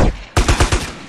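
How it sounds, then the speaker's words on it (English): A quick burst of four or five gunshots from a GTA San Andreas firefight, loud and close in a rapid, slightly uneven rhythm after a brief lower rumble. "That's a good shot."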